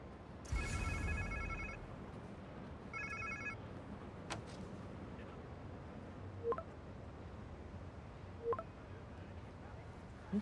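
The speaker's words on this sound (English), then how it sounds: "Sounds like somebody's phone." A phone in Marvel's Spider-Man 2 gives two short electronic ringtone bursts, the second shorter than the first, followed by quieter background game sounds and a few faint clicks.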